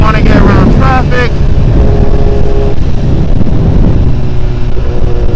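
Ride on a 2025 Ducati Panigale V4 around Tampa Bay, with rapid revving bursts early on, then a steadier engine drone beneath heavy wind roar while the rider talks throughout.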